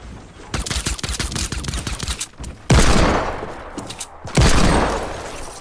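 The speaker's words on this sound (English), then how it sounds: "This guy's shooting me in the back, dude." Rapid automatic gunfire from a Fortnite battle royale match crackles in dense bursts, followed by two heavier booming shots, loud and close with no talking.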